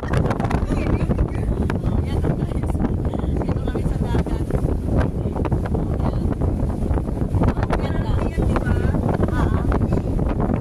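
Strong wind buffets the microphone on an open-water ferry crossing from Central Hong Kong to Tsim Sha Tsui, a loud, steady roar with boat engine and water noise beneath it.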